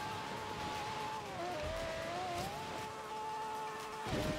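A Lamborghini Reventon races in Forza Horizon 3, its engine whining steadily with pitch rising and dipping as it shifts, plus scattered tire and impact noises throughout.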